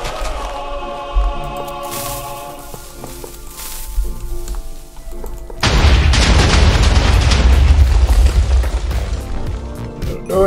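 A TNT blast set off against bedrock in a block-building video game, with scattered pops and background music first, then a loud, sustained roaring explosion rumble through the second half.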